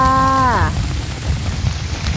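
Steady rain pours down during a storm in rural Thailand while foraging for mushrooms, a dense hiss of drops close by throughout, with a brief descending tonal call at the very start.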